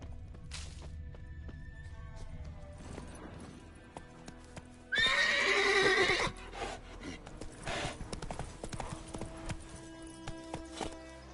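In the video game The Witcher 3, a horse gives one loud whinny amid quieter hoof clip-clops, with light thuds and movement around it.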